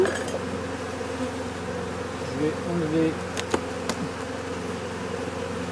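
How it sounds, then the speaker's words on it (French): Honeybees buzz densely in a hive showing swarming fever, a steady close drone throughout with a few clicks and a brief spoken comment. "voir que les abeilles sont dans la hausse, dans les hausses"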